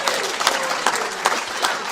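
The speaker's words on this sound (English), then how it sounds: "Let's start that clapping now." Audience applause at a group gathering: a steady, dense wash of clapping from many hands with a few sharper bursts, sustained and fairly loud throughout.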